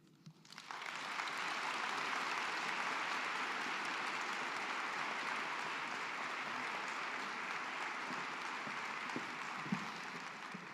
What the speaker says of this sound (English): Let's give her a big round of applause again